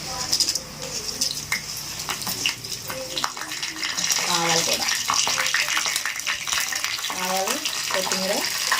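Garlic and dried red chilies tempering in hot oil for pappu charu, a loud continuous sizzle with spoon scrapes and clinks against the pan, and bursts of faint voice-like sounds partly over it.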